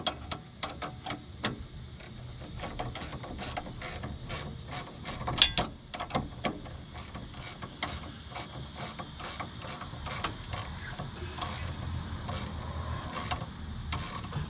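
Bolts are tightened down during an A-arm install on a 1998 Mustang Cobra, with a ratchet clicking in repeated, evenly spaced bursts, close and steady, and no talking.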